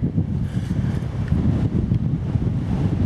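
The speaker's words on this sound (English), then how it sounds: "The wind is blowing harder." Strong wind gusting through a forest on a cold, rainy November day at Coopers Rock State Forest, West Virginia, a loud continuous low rumble buffeting the microphone without a break.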